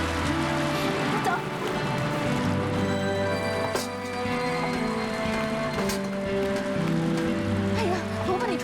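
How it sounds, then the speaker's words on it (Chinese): Heavy rain pours down steadily and close, a dense hiss that never lets up, with faint background sounds layered over it. "这场雨不小啊，再不走的话就惨了。"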